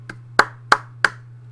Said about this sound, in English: Little clap for Sierra Leone there.